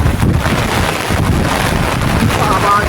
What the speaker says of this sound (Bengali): প্রচুর হাওয়া